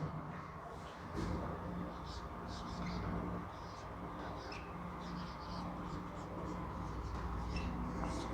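Chalk or marker scratches across a board during a lecture on electric current, a continuous scratchy writing sound that runs for several seconds with short bursts of strokes, heard under a teacher's voice.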